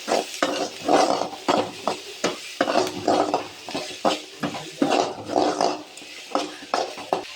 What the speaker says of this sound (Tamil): இப்போ நம்ம கட் பண்ணி வச்சுருக்கிற புடலங்காய் சேர்த்துட்டு நல்லா கலந்துக்கணும்.